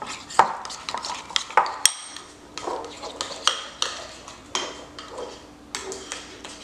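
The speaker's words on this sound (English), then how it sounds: "And you just stir, stir, stir. See that? Just keep stirring." A utensil stirs and scrapes melting candy coating for cake pops, producing repeated close, irregular clinks and taps against the bowl over a faint background hum.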